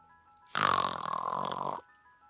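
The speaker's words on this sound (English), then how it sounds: "Mr. Sinclair continued snoring" A character snoring in the video game Beacon Pines, a single long, loud, raspy snore that starts abruptly and lasts over a second before cutting off, set against a faint background tone.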